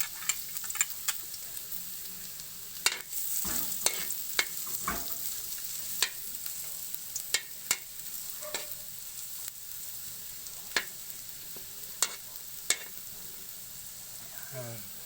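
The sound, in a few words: garlic frying in hot cooking oil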